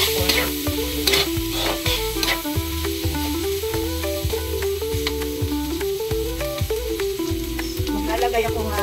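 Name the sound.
pork being returned to the pan, frying and stirred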